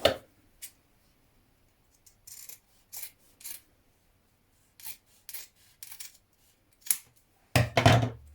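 Scissors snip through fabric pieces in a quiet room, with a few sparse, short cuts spread out among pauses and a louder rustle of handled cloth at the end.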